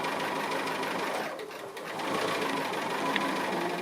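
A sewing machine stitches an appliqué of a vehicle, running as a steady, close, continuous mechanical whir with a brief dip in the middle and no talking.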